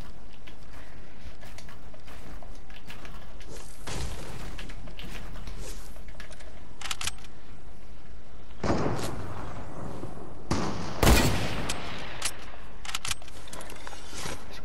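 Fortnite gunfire in a creative match, a few scattered sharp shots with one louder crack standing out near the end among quieter game noise.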